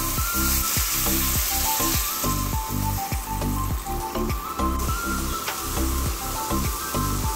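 Water hits a pan of tomato masala frying for a Bengali rohu fish curry, setting off a loud, steady sizzle punctuated by rhythmic scraping and stirring strokes.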